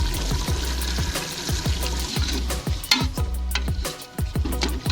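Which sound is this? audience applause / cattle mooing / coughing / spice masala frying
spice masala frying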